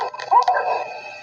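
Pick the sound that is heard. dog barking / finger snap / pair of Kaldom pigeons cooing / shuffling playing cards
dog barking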